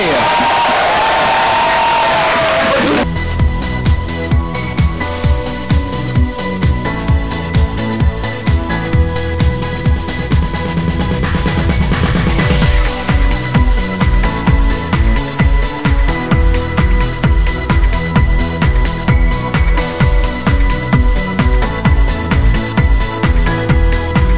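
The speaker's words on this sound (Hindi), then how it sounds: "जोरदार तालियां हो जाए" A studio audience at The Kapil Sharma Show cheers and applauds loudly for a few seconds, then is swallowed by loud, driving music with a heavy beat that carries on to the end.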